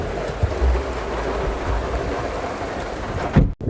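A heavy monsoon downpour pours outdoors near Navi Mumbai Airport, a loud, dense and unbroken roar of rain with low rumbling beneath and a brief cut near the end.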